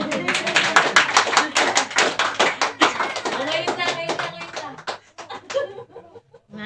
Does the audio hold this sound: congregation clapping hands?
yes